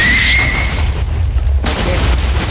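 A Minecraft explosion blowing up a village: a loud, sustained low booming rumble filling the whole stretch, with a sharper burst partway through.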